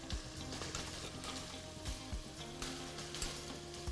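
Potatoes sizzle and crackle steadily in a large pan full of hot oil, with occasional scraping knocks as they are stirred and turned; continuous, close and fairly even, with no talking.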